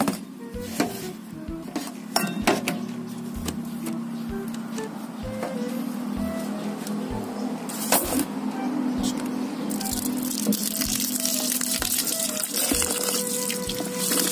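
Mineral water pours into a cooking pot, a steady splashing stream running throughout with clinks of pots and utensils and brief speech over it.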